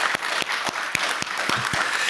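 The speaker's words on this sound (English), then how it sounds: "you should give yourself a round of applause" A graduating class at a 2021 graduation ceremony is applauded with steady, evenly spaced claps that stand out over a thinner wash of clapping, lasting only a couple of seconds with no voices.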